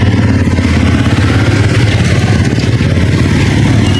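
A motorcycle engine runs loud and close with a steady, slightly uneven chugging idle while the bike is pushed along, no voices over it.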